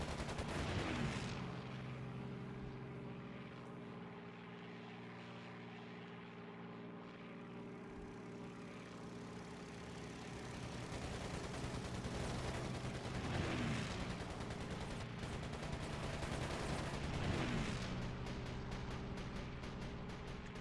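Anti-aircraft gunfire in the World War II game Air Conflicts: Secret Wars: muffled bursts rise periodically over the constant drone of propeller aircraft engines, fairly faint and distant.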